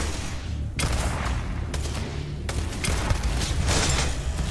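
Dense gunfire from a fight against turrets in the space RPG Starfield: a steady barrage of overlapping shots and booms over a constant rumbling bed, loud and continuous throughout, with no talking.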